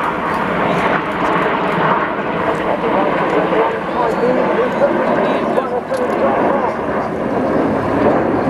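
A Eurofighter Typhoon jet roars overhead during an air show display, a loud, sustained engine rumble that continues under a commentator's speech.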